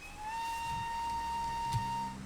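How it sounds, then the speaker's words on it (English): Steam whistle of an LBSC E2 tank engine in the Train Simulator 2017 game, one sustained clear tonal blast held for about two seconds over a soft hiss, fairly loud and alone. "he's got an absolute fantastic whistle."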